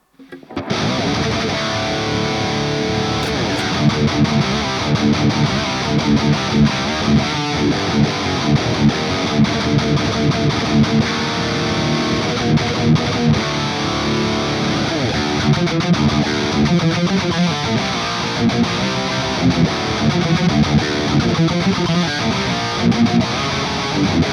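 Heavily distorted electric guitar through an amp model based on an EVH 5153 Stealth EL34, red channel, plays sustained high-gain riffs and chugs, loud and steady throughout with no talking.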